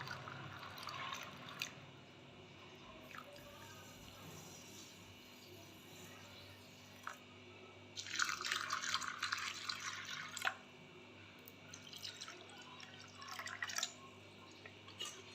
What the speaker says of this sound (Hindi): तो ये पानी गया इसके अंदर।